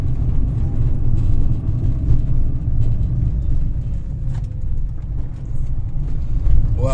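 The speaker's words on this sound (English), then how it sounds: "there's quite a bit of, well, business traffic on the road" Morning business traffic on a road in Paphos, Cyprus: a steady, loud rumble of cars passing continuously nearby, with engine drone rising and falling throughout and no talking.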